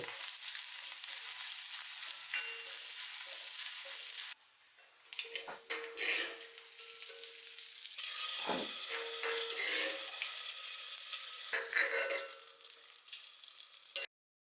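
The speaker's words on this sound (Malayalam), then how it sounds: "നമുക്ക് വെളിച്ചെണ്ണയിൽ കടുക്, വറ്റൽമുളക്, കറിവേപ്പില, പിന്നെ തേങ്ങ ചെറിയത്, തേങ്ങ വറുത്തിടുന്നുണ്ട്" Mustard seeds, dried red chillies, curry leaves and small coconut pieces fry in hot coconut oil, giving a bright, close sizzle that cuts out briefly and returns, with occasional clinks of a utensil against the pan.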